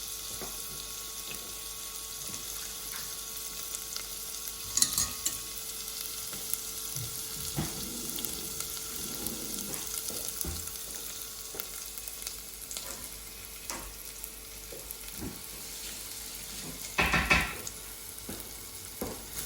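Chilies frying in sesame oil in a hot pan make a faint, steady sizzle with occasional scrapes and clinks of stirring and a louder clatter near the end, with no speech.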